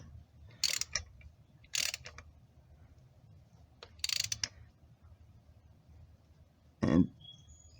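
Ratchet wrench snugging the front differential drain plug on a 1997 Ford Explorer, four short, separate bursts of clicking close by in a quiet garage, the last one a bit louder.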